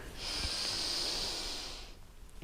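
A single deep breath is drawn in, an airy sustained inhale of about two seconds during gentle morning exercise, close and clear with no talk.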